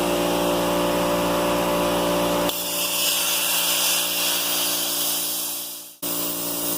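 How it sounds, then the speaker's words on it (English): A plasma cutter slices through stands on an Interstate deckover trailer, giving a loud, steady hissing roar that shifts in tone partway through and cuts off sharply near the end before resuming briefly. "He was going to use the grinder, but decided the plasma cutter is so much faster."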